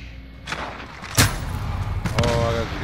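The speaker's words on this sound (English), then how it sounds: "You got sniped." A single sharp, loud sniper rifle shot rings out in Call of Duty Modern Warfare, standing out above a busy background of game noise with a few softer thuds before and after.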